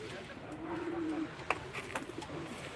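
Pigeons at an Ankara pigeon auction give soft low coos in a rolling phrase, with a few sharper bird sounds and faint background voices.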